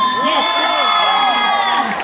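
Crowd at a Resident Evil actors' panel at the Fantasy & Magic Con convention cheers and shouts steadily, with excited voices and whoops forming a continuous, fairly loud wash of audience noise.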